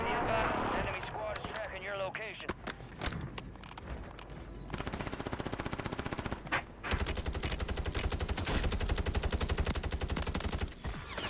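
Gunfire from an SOA Subverter in Warzone, with single shots and rapid automatic bursts, loud and sustained toward the end, while players talk over the early part.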